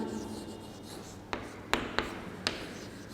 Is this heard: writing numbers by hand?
yes